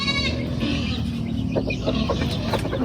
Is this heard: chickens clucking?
yes